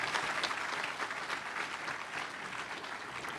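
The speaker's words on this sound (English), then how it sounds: "And I think that deserves some applause." Steady applause from an audience at a conference session on beaver restoration in California, a dense continuous wash of clapping at moderate level throughout with no talk over it.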